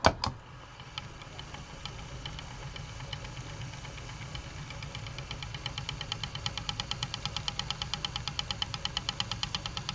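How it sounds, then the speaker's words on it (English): Wool winder running steadily in a quiet room, a mechanical hum with a faint, regular ticking that grows more distinct as it keeps turning, close by and alone. "This is my woolly winder."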